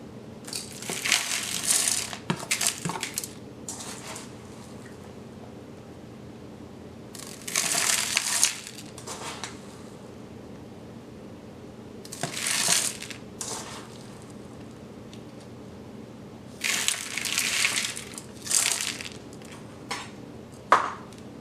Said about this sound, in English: Continue this process of layering the ice and salt until it reaches the drainage hole on the side of the bucket.